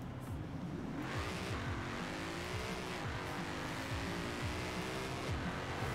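Car engine revving hard in fourth gear during a rear-wheel-drive drag run in Forza Horizon 4, a loud sustained drone with RPM rising slowly, then briefly dipping and climbing again, with no talking.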